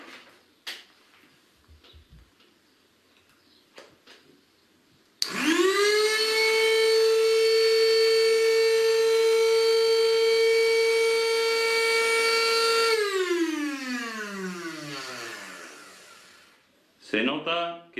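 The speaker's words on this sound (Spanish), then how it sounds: "Entonces va a trabajar el motor a la mitad de la frecuencia." An electric motor running at half its supply frequency whirs up suddenly and hums steadily with a buzzing tone, then winds down with falling pitch; quiet clicks and handling noises before and after.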